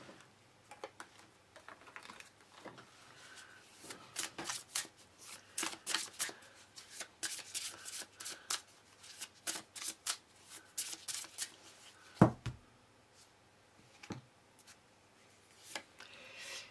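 Tarot cards are shuffled and handled close by, a steady run of crisp flicking riffles and soft slaps with brief pauses and one sharper tap near the end.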